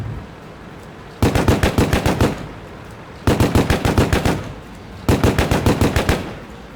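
Rapid automatic gunfire from tanks in the video game World of Tanks: three loud bursts of fast, evenly spaced shots, each lasting about two seconds with short gaps between them.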